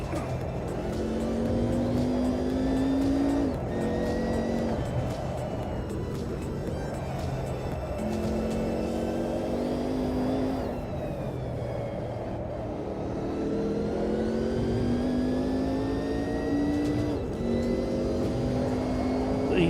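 Race car engines in the Automobilista 2 sim, several high-revving cars droning and shifting through gears in steady upshift sweeps, loud and continuous throughout.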